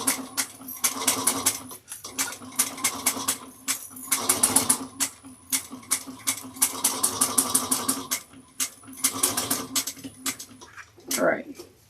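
A sewing machine stitches the curve of an oval bucket bag in short bursts of rapid, buzzy needle strokes, starting and stopping several times, close and clear, with a voice talking briefly at the end.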